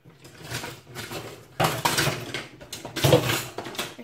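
Kitchen utensils clatter as a spatula is taken out: a few close, clanking metallic bursts with brief rattles between them, and no voices.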